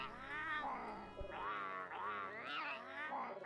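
Rising and falling meows, nearly unbroken and close, come from a cat character in the video game Monster Hunter World, sounding almost like a yowling alley cat, with no voices over them.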